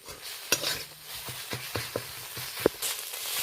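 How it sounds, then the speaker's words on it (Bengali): Chili, ginger and onion stir-fry in ghee with a soft constant sizzle, punctuated by repeated sharp scraping clinks of a spatula against the pan at an uneven rhythm. "লঙ্কা দেওয়ার পরে ওটাও 2-4 সেকেন্ড ধরে একটু কষিয়ে নেব আদা আর পেঁয়াজের সাথে।"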